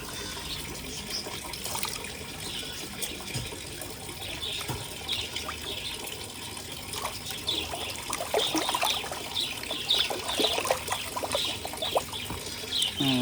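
Water flows steadily from a filter into a home fish tank, a soft continuous trickle and splash that gets a little louder and busier toward the end, with no voices.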